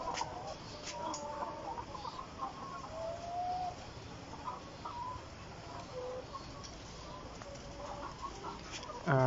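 Layer hens in a poultry shed, where the flock has suddenly fallen ill, give soft scattered clucks and short calls over a steady low background hum.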